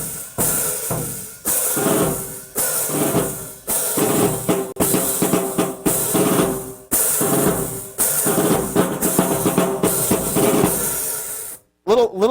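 Early jazz drum rhythm on a bass drum with a cymbal mounted on top, played loud and steady in repeating phrases with brief gaps, close up, with no talk.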